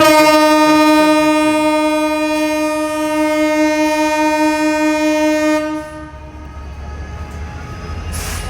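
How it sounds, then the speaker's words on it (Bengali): A train's long, loud horn blares steadily for several seconds as it departs Rajshahi railway station, then stops, leaving the low rumble of the moving train. "ট্রেন বড় রকমের একটা হুইসেল দিয়ে ছেড়ে যাচ্ছে"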